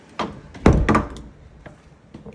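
A brown apartment front door is pushed open firmly, giving a couple of close, heavy thunks and a solid knock-like impact, followed by faint handling noise and a quiet tail.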